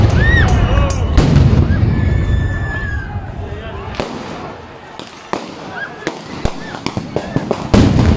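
Stun grenades bursting as riot police disperse a large protest in Minsk, Belarus: several sharp loud bangs and pops amid crowd noise and shouting, with a series of quick cracks toward the end.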